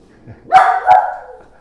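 A small dog gives two sharp barks close by, loud and quick, one straight after the other, against a quiet indoor room.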